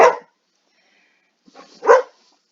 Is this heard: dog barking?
yes